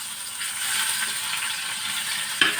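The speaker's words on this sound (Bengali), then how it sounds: "প্যানে তেল গরম হয়ে গেছে, এবার মাছটাকে ভাজতে দেব।" Fish rubbed with salt and turmeric fries in hot oil in a pan, a moderate steady sizzle with light crackling and one brief clack of a utensil near the end.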